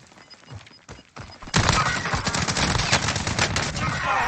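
Shotgun fire in the video game Call of Duty Warzone: after a quieter opening with scattered shots, a loud, sustained burst of rapid, overlapping gunshots breaks out and continues densely to the end.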